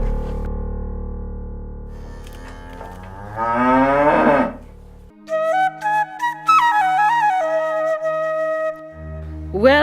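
A cow on a smallholder farm moos loudly in a long, rising call lasting several seconds, then stops and is followed by clear whistled or musical tones, with another brief low moo at the very end.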